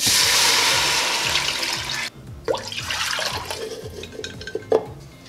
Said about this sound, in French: Alors une fois les oignons ramollis, vous mettez le bouillon.